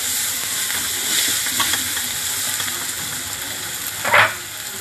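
Ingredients for an eggplant bharit roast in a pan until reddened, a soft sizzling hiss with faint stirring scrapes, then a sharper burst of sizzle near the end, close and without talk.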